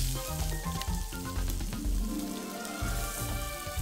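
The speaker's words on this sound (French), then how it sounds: "Ok, je fais cuire ton steak, mon gars." A steak fries in the Cook Serve Delicious 2 video game, a steady crackling sizzle under upbeat background music, with no talking.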